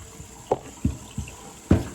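Cold tap water rinses a screen printing screen, with a low steady wash of running water broken by several soft splashes and thumps.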